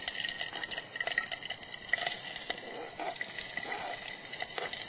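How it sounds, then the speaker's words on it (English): Onion, ginger and garlic sizzle in hot oil over a camp stove, a steady bright crackling hiss with scattered pops, moderately close and with no talk. "Once the oil is heated up, onion, ginger and garlic."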